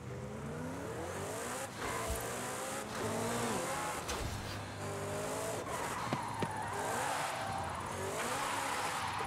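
A McLaren GT 2021 slides with the handbrake in Forza Horizon 5, played on a Logitech G29 wheel. Tires squeal steadily over a loud, continuous engine drone with shifting revs, and no one speaks.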